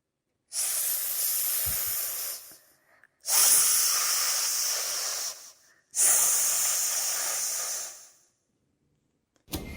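A voice imitates a snake's hiss with three long, sharp "s" sounds, each lasting a couple of seconds with brief pauses between, close and clear.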